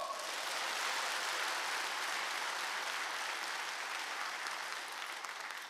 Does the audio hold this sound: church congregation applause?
yes